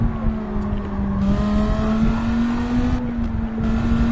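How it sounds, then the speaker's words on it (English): A racing car engine in a racing video game is held at full throttle, a loud continuous droning whine that climbs gradually in pitch with no voices over it. "I've got my freaking accelerator down all the way"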